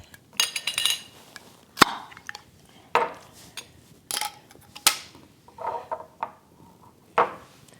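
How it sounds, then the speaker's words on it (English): A knife scrapes and clinks as ghee is spread onto slices of bread for a Reuben sandwich, in a series of short, close scraping strokes and taps separated by brief pauses. "first thing we do is to butter the bread"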